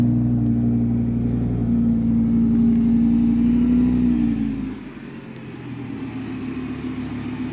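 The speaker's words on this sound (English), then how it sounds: "Choke on the vehicle will last normally about 30 seconds and then it'll go quiet." A car engine running fast on choke just after starting, a loud steady droning idle that drops abruptly to a quieter, lower-pitched settled idle about two-thirds through.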